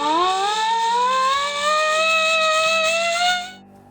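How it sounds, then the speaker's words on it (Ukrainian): An air raid siren sounds loud and steady, its tone slowly rising in pitch with strong harmonics, then cutting off abruptly near the end. "Вони імітували сигнал повітряної тривоги"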